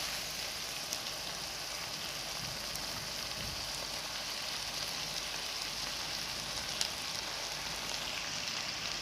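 Chicken and vegetable fried rice frying in a pan with spices, a soft continuous sizzle and crackle with scattered faint pops, steady and alone.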